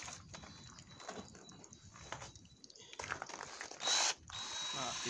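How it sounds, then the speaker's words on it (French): A cordless screwdriver spins a polishing pad on a car headlight, a whirring motor buzz that rises and falls in short bursts, with a louder high-pitched whine near the end and faint background sounds. "Pas trop vite avec la perceuse, parce que la visseuse, parce qu'elle a tendance à sauter."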